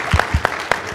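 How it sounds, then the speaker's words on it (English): Brief scattered clapping from an audience at a discussion event, a few distinct claps in an uneven rhythm, close and fairly loud, lasting about a second. "I think everybody should give him a round of applause for that."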